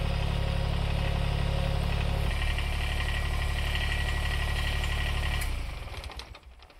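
A 2016 Kubota BX25D compact tractor engine runs loud and close with a steady low rumble, then winds down and fades near the end.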